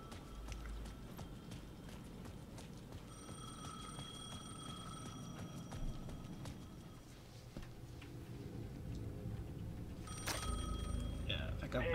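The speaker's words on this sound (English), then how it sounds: "The payphone at the edge of the plaza was ringing again." A payphone ringing at the edge of a plaza in Alan Wake 2, its bell tones repeating steadily in the middle of the clip under game ambience, footsteps and a person talking.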